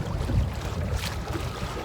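Wind blowing across a lake during a cold front, a steady rumbling buffet against the microphone with low gusting noise throughout, close and moderately loud.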